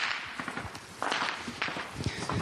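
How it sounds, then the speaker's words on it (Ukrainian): Automatic rifle fire from enemy fighters at a frontline position near the road to Yasynuvata, heard as scattered sharp cracks and pops, several close together, with a louder burst midway and no talking. "Бойовики беруться її прострілювати. Це їхні. Це автомат."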